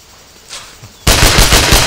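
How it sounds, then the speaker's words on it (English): Gunfire in the Sniper Ghost Warrior video game: a faint stir, then a loud sustained burst of rapid automatic shots that fills the rest of the moment, close and continuous with no talk. "They're the one who's shooting at me."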